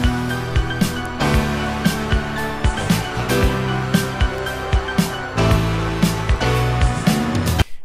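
Sampled music from a song plays loud and full, a steady groove of punchy drum hits over bass and layered tones, with no talk over it.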